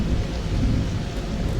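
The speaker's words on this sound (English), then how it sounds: "Only problem is it's raining" Rain in the Starfield video game, a dense, steady low rumble of heavy rainfall with a thundery undertone, continuous and loud with no breaks.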